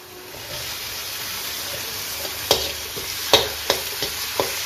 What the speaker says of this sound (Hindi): अब इसमें हम टमाटो ऐड करेंगे।